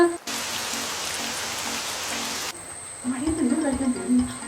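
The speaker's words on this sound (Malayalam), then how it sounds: "മഴ" Steady hiss of heavy rain, then a quieter patter of falling drops with a voice briefly audible over it.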